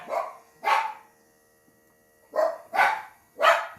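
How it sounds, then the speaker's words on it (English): Indoor dogs bark loudly and close by in bursts, two sharp barks, a pause, then three more in quick succession, with no talking. "So I was really interrupted by the dogs before."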